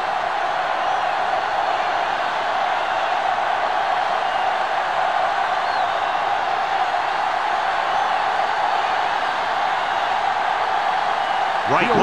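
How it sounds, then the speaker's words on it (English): Steady crowd roar in a football stadium within a video game, a dense continuous wall of cheering voices that holds level for the whole stretch, with a commentator's voice over it. "the crowd in full throat as we get this new season started with the kickoff"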